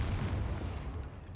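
A giant magical wand explosion in Hogwarts Legacy rolls out as a faint, deep rumble that holds steady and then slowly fades, with no voices over it.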